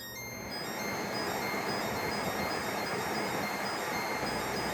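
Portable air conditioner unit in a master bedroom starting up, a steady broadband rushing fan noise with a faint high whine that ramps in quickly and then holds constant, moderately quiet and without speech.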